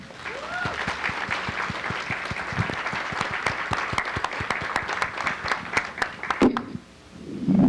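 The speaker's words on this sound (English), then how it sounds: "Please give a round of applause for Ms. Christian." An audience at a Rutgers Newark Women's History Month celebration applauds a guest, a continuous wash of clapping across the room with a few whoops, dying away abruptly near the end as a voice begins.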